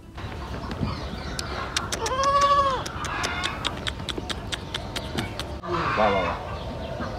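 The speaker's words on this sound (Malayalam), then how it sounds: "ഇവിടെ ഒരുപാട് ആടുകളുണ്ട്." Caged goats on a farm at Al Wakra, Qatar, let out a couple of short, wavering bleats amid scattered clicking and low background noise, with faint voices in the distance.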